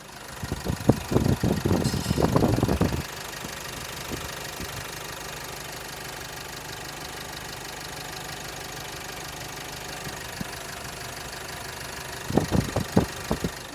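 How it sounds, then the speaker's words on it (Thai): A 2018 Isuzu D-Max Hi-Lander 1.9L manual pickup's diesel engine idles steadily with a low, rattling knock, bracketed by louder revving bursts at the start and end. "ตอนนี้สตาร์ทรถอยู่นะ เดี๋ยวให้ฟังเสียงเครื่องกันค่ะ"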